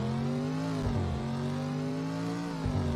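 Updated car engine sound from the Roblox Greenville game revs with steady, buzzy harmonic tones that dip and rise slightly, loud and close with no talk over it.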